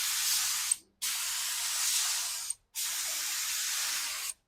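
Three bursts of hissing spray from a compressed-air spray gun with the compressor air turned down, each lasting about a second or more, separated by short silent pauses.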